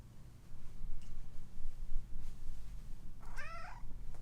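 A pet cat named Milo lets out a single drawn-out meow near the end, close by, over a low steady room hum with no talking.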